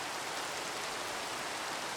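Steady, dense rain falling in the Minecraft video game, a continuous broadband hiss of drops with no pauses or variation, filling the scene evenly at a moderate level.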